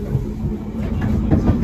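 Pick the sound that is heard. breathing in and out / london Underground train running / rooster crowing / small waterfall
london Underground train running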